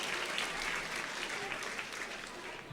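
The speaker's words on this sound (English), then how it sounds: "Let's give all our winners another round of applause." An audience at an employee awards ceremony applauds the winners, a broad, continuous wash of clapping from a crowd that stays even and sustained, with faint voices mixed in.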